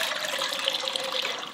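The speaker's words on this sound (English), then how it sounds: "pour the water inside" Water pours steadily into a pot set over high heat, a continuous close splashing rush with no voices.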